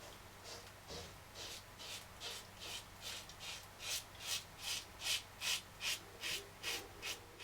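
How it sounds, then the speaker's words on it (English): A stainless steel safety razor shaves against the grain during a wet shave, producing close, soft scraping strokes that repeat at a steady rhythm and grow slightly louder over the pass, with no talking. "you can hear the hair and the grain being cut"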